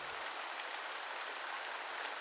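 Rain falling on a tent at night while camping, a dense, even patter that fills the whole stretch with no pauses and no voices.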